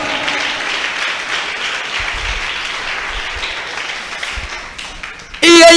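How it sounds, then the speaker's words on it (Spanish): A church congregation claps and applauds in a steady, full roar of hands that fades slightly toward the end before a brief louder burst cuts in. "dele fuerte esas palmas"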